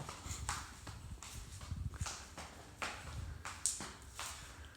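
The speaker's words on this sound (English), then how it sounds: "that's the sound of my flip-flops." Flip-flops slap on a hard floor inside the Château de Puyferrat, about eight soft, evenly spaced steps of a steady walk, quiet and close, with no talking.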